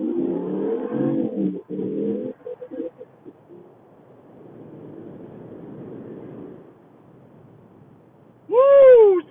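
A Ram 1500 pickup fitted with an AF Dynamic cold air intake launches hard from 0 to 60 with a loud engine roar. The roar drops to a softer road rush, and a brief rising tonal call closes the run.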